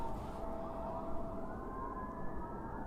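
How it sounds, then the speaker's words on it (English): Emergency sirens wail from across a river, a steady tone drifting slowly upward, distant and continuous beneath low outdoor rumble. "Those fucking sirens are on the other side of the river"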